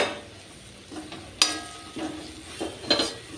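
A spoon stirs chicken curry with masala and curry leaves in a pan, soft scrapes and knocks against the metal over a low sizzle, close and brief.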